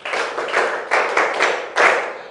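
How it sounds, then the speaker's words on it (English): A classroom group claps in several short bursts, each swelling and fading, sharp and fairly close, with no talking. "Please clap for him."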